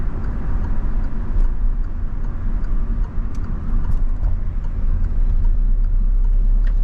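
A car's engine and road noise rumble steadily from inside the cabin during a driving lesson, a low, even drone heard alone without talk.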